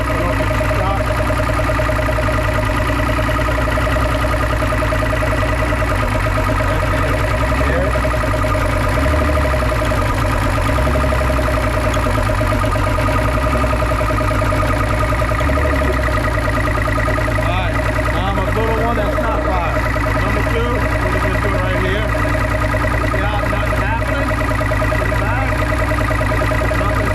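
A boat engine runs with a misfiring cylinder, its loud, close, steady drone continuous throughout with an uneven, lumpy pulse and no pauses.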